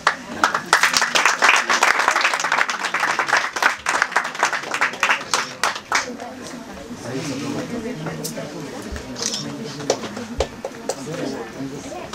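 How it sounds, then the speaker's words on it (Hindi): An audience at a Hindi poetry gathering (kavi sammelan) claps in a loud, dense burst of applause that fades gradually, with a voice speaking afterward. "तालियां गरिमा जी के लिए"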